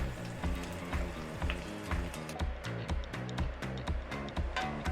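Shredded ingredients stir-fried with leftover bacon in a pan, giving a steady sizzle with repeated clattering stirs and scrapes in an irregular rhythm, close and moderately loud.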